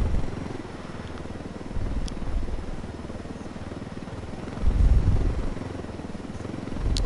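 A helicopter in the video game Ghost Recon Wildlands drones steadily at moderate loudness, with a low rotor rumble that swells briefly a couple of times and no talking over it.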